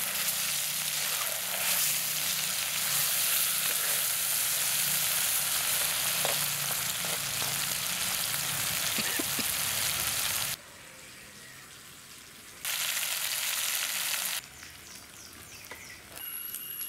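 Shark fish pieces sizzle and fry in a pan over a low simmer, a steady close crackling hiss that drops away in two short breaks near the end.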